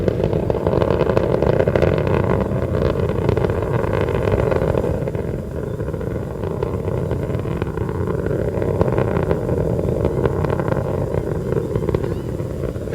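Space Shuttle Atlantis main engines roaring during the STS-106 launch, throttled back to 72% as the shuttle nears the sound barrier: a steady, dense, distant rumble filling the whole clip, with a mission-control voice speaking briefly over it.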